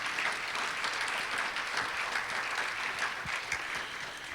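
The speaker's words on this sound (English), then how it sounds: "I think everybody here should also applaud you." An audience at a remembrance gathering applauds, a steady wash of many hands clapping at moderate distance, fairly soft and even for the whole stretch with no voices.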